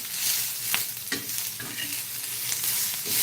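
Onion browning in a pan for a homemade fish curry, a quiet continuous sizzle with occasional light stirring clicks and scrapes.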